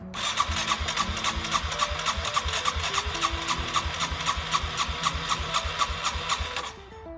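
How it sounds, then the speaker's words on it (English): A Yamaha TW200 dual sport motorcycle, revived after sitting, on its first test fire: a loud, steady, rapid mechanical engine rhythm with bright metallic rasping runs for about seven seconds, then cuts off abruptly, with no talking. "And now the moment we've been waiting for, the test fire."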